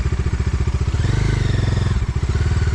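Bajaj Dominar 250 motorcycle slowing to pull over by the roadside, a loud close single-cylinder engine thumping rhythmically at low revs with a brief rise in pitch midway.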